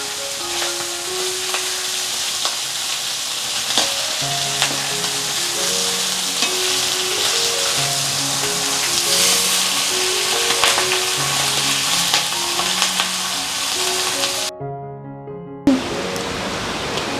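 Food frying in an iron pan, a steady broadband sizzle with faint stirring clinks, close and continuous for about fifteen seconds before a brief gap and resumption.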